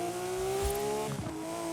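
Hypercar driven in the Forza racing video game, its engine holding a high steady tone, then shifting briefly with a quick rev change before settling again, moderately loud with no talk.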